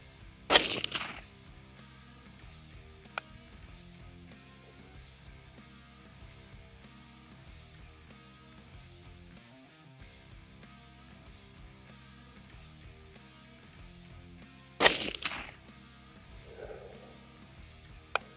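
Two sharp, loud rifle shots from a SIG Sauer MCX-Spear in .308 with a 13-inch barrel, fired at an accuracy range. The first comes near the start and the second about fourteen seconds later. Low background noise sits between them.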